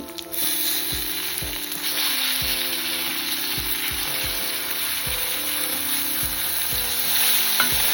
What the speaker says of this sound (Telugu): దీనిలో ఒక గుప్పెడు కొత్తిమీర వేసేసుకోవాలి